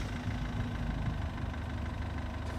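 A W211 Mercedes E-Class engine starts and runs at a steady low idle, a continuous deep hum with a faint knocking texture, close by and alone.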